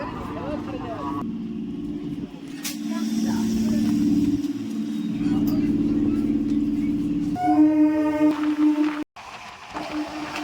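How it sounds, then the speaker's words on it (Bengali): A local passenger train departing a station rumbles past with a low droning engine and rolling clatter, then a horn sounds near the end before a sudden cut. "এখন গেদে ট্রেনটা বেরিয়ে গেল"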